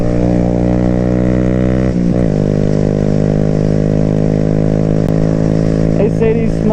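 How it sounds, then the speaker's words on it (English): A small Honda Grom motorcycle rides along a road at about 55 mph, its engine holding a loud, steady buzzing drone with a brief dip and rise in pitch, wind rushing past. "They say these small bikes, these Groms aren't meant for like roads like this, 55 mile an hour, 30-minute rides."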